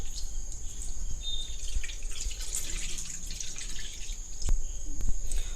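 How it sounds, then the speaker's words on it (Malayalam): Maida milk, a strained flour-and-water liquid for jackfruit halwa, pours into a heavy-bottomed pan, giving a continuous wet trickling and dripping that holds steady for several seconds over a faint background hiss. "നമ്മൾ അരിച്ചെടുത്ത് വെച്ചിരുന്ന നമ്മുടെ മൈദാപ്പാൽ നല്ല ചുവട് കെട്ടിയുള്ള ഒരു പാനിലേക്ക് നമുക്കൊന്ന് ഒഴിച്ചു കൊടുക്കാം"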